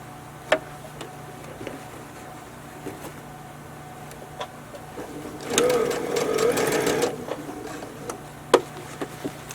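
A sewing machine stitching around the edge of a simple fabric bag, with a short steady whirring run in the middle, faint ticks and handling before and after.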